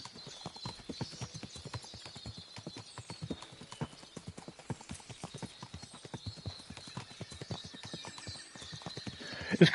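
Horse hooves clip-clopping at a steady riding gait in the medieval video game Kingdom Come Deliverance 2, continuous moderate hoofbeats with faint ambient background and a brief whinny-like sound.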